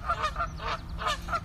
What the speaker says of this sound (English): Very loud geese.